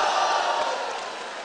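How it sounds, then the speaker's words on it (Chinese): An audience at a comic crosstalk show breaks into dense, sustained applause and crowd noise, a loud, even roar of clapping that fades slightly toward the end. "准备鼓掌啊！"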